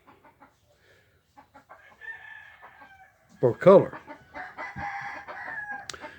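A hen clucks and calls insistently while wanting to come inside, sharp loud squawks near the middle of the clip, with someone talking softly around the calls.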